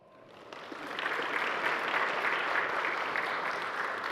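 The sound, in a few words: audience applause for the speaker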